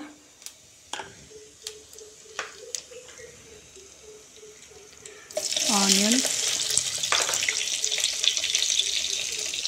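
Onions and about ten cashews fry in hot oil with cinnamon and cumin for a paneer matar butter masala gravy. Soft ticks and clicks come first, then a loud, steady sizzle swells in about halfway through and holds to the end.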